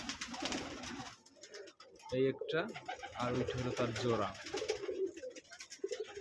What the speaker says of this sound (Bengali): এই একটা মিলি রেসার কবুতরের জোড়া